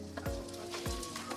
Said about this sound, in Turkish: Azıcık bir yağda kızartıyoruz.